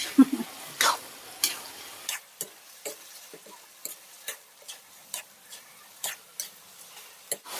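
Lao-style rice noodles being stir-fried in a pan, heard as a steady run of sharp utensil clicks and scrapes against the pan at close range, roughly one or two per second, over a faint sizzle with no talking.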